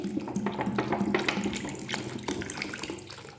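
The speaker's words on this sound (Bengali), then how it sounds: "সেকেন্ড টাইমে আবার জল দিচ্ছি" Tap water runs steadily into a bowl of raw mangoes being washed for a second rinse, a continuous close splashing with small bursts of handling and no talk.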